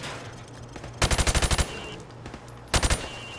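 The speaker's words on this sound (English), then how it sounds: "I want you to shoot the targets through the wood." Call of Duty gunfire shooting targets through plywood: a rapid burst of about seven loud automatic shots, a pause with faint background hum, then a shorter burst of three shots.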